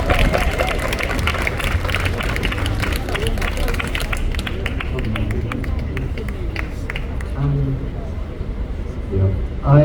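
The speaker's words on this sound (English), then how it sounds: "Big round of applause for Juan." Crowd at an outdoor rally clapping and cheering for a poetry reader, a broad wash of applause mixed with chatter and babble that thins toward the end, with voices talking underneath.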